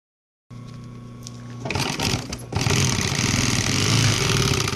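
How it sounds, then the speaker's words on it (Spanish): Sewing machine stitching vinyl upholstery panels for a quilted bench, a steady close mechanical whir that rises and grows louder partway through, running continuously without speech. "Voy a coser las otras 5 piezas similares a estas."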